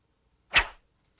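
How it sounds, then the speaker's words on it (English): A single quick whoosh sound effect, a short airy swish that swells and fades in well under half a second, alone against silence. "2 whooshes. We'll put those in."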